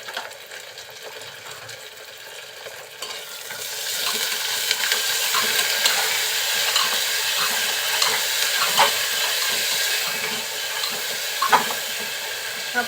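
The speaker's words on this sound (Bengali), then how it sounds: "সব কিছু দিয়ে এখন একটু কষিয়ে নিচ্ছি যাতে কাঁচা মশলার কোনো গন্ধ না থাকে" Ginger, garlic and cumin paste sauté in a pan for a Bengali long bean, potato and small shrimp dish, the sizzle swelling after a quiet start into a dense, steady hiss with light stirring scrapes.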